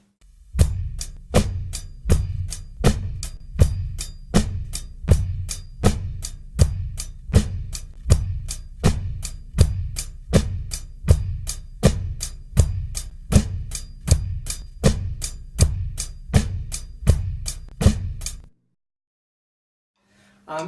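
Drum groove with the bass drum on every beat plus snare and hi-hat, a steady, loud, evenly spaced pattern of about thirty-five hits that stops abruptly, then silence.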